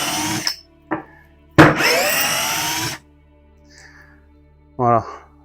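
A 12V cordless drill-driver, either a Parkside or a Bosch Pro, unscrews a screw in short whirring bursts, one long run in the middle, loud and close, with brief speech between.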